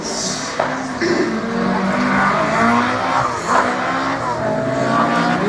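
A Caterham race car driven hard through a slalom course, its engine revving up and down in rising and falling sweeps as it shifts and brakes, with brief tire squeal, loud and close throughout.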